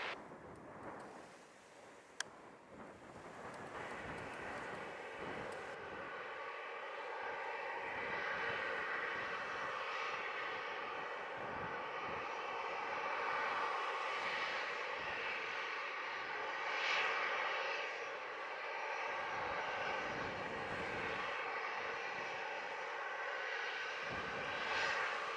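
An airplane at Montego Bay airport in Jamaica gives a steady, fairly distant engine roar that swells and holds for about twenty-five seconds, with no talk over it.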